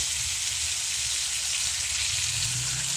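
Ginger garlic paste sautés in a pan for chicken curry, a loud, continuous, even hiss of frying heard close up, with no voices.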